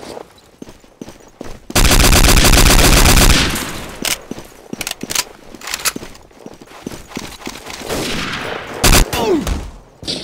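A machine gun in Day of Defeat: Source rips out a long, loud, continuous burst, then scattered single gunshots and clattering sounds follow across the rest of the stretch.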